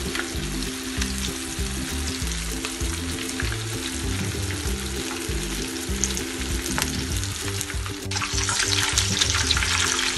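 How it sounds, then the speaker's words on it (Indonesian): Constant crackling sizzle of cheese-stuffed tofu frying in hot oil over moderate heat, close up, with occasional stirring scrapes and no voices. "Ini gorengnya ingat dibulak-balik ya."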